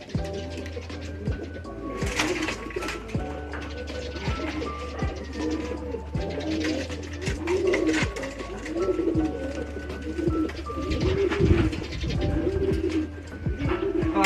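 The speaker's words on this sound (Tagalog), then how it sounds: "Malaking kalapati siya mga kalong." Large breeder pigeons coo in a loft, repeated soft throaty coos in an uneven rhythm close by, with occasional wing flutters and scrapes and no speech.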